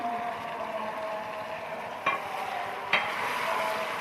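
Tomato paste and ginger-garlic paste fry together in a pan with a low, steady sizzle, broken by two sharp scraping stirs of the spoon partway through, nearby and alone.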